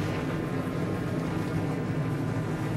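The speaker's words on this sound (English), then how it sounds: "So the engines have fired on the 43 cars" Forty-three race car engines at a 2010 New England 200 race roar together in a dense, continuous, loud drone with a broad rumbling wash and no clear gaps.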